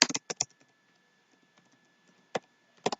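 A computer keyboard is tapped in a few quick bursts of crisp keystrokes, close and clear, separated by a pause of near silence.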